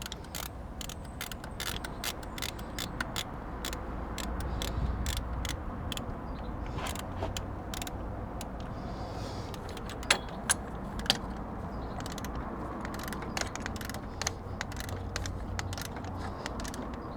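Bolts on a Mitsubishi 3000GT water pump are tightened during a timing belt change, a run of quick ratchet clicks and metallic ticks in bursts, close up and fairly quiet, with no talking.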